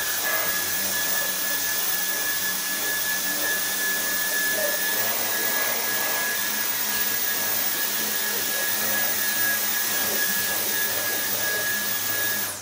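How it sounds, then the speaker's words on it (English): A Dyson V10 cordless vacuum fitted with a mini motorized head whirs at a steady, close, loud pitch with a high tonal whine, running continuously and alone. "use the mini motorized head for smaller things like the couch"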